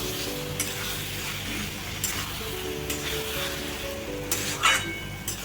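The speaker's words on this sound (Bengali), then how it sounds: "এবার চিকেনটাকে হাই ফ্লেমে ভালো করে ভেজে নেব।" Chicken pieces fry on high flame in a green chilli spice paste, a dense continuous sizzle with a low steady hum beneath and a few louder spatters and scrapes, no voices.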